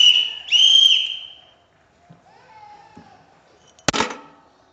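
A whistle blown under a jacket, two short shrill blasts in quick succession at the start, followed by quieter shuffling and a sharp knock near the end.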